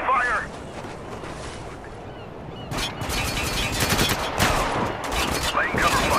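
Gunfire in the video game Spec Ops: The Line, dense bursts of rapid shooting with heavy crackling fire building after the first few seconds, mixed with shouted voices in combat.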